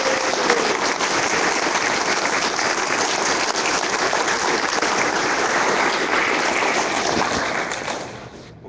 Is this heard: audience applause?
yes